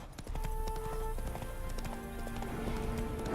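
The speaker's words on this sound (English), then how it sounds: "Spooking my horse." Horse hooves clip-clop at a steady walking pace on ground in The Witcher 3 video game, with rhythmic clear knocks, faint tonal game sounds and a voice briefly underneath.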